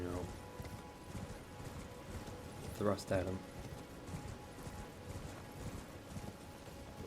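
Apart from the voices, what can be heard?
horse hooves of mounted enemy in Elden Ring video game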